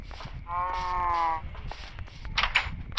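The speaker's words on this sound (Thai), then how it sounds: "ถ้าวัวออกไปนี่ผมฆ่าวัวจ๋าเลยนะ" A cow in the Minecraft video game gives one drawn-out, close moo, followed by a few short clicks and game sounds.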